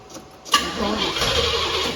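A 1977 Pontiac Grand Prix engine cranks briefly, catches with a sudden bark and settles into a rough, steady running rumble, close by.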